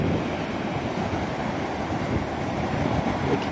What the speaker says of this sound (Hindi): कितना शोर है पानी का और किस तरह पानी सही भाग के आ रहा है।